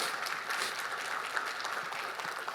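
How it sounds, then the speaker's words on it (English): Keynote audience at a summit breaks into applause, a dense, even wash of many hands clapping at a steady level throughout, with no talk on top. "You can clap that up."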